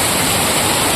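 Torrential rain at Malvan's Rajkot Fort roars close and even, a dense unbroken hiss with no voices.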